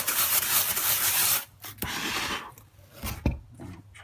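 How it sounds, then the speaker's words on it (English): Scrub pad rubbing on foam, close harsh scratchy scrubbing in bursts, one long stroke followed by shorter irregular passes with brief pauses. "I'm going to just come over here with my scrub pad."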